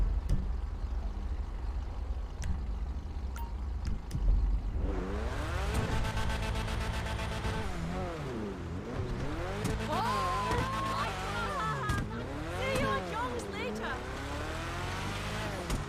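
A car driven in the video game Quiet City RP, fitted with off-road tyres, revs hard and on-off, its engine note climbing and dropping in repeated sweeps under steady game noise while someone talks throughout.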